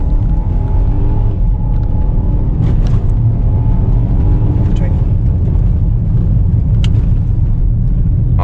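A car engine roars loud and sustained under full throttle, a dense continuous rumble with road and wind noise.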